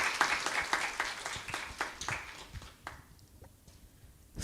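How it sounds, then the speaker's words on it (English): Applause from a youth camp audience at an opening ceremony, a few seconds of moderately faint clapping with distinct individual claps, thinning into scattered claps before stopping. "Please give a round of applause."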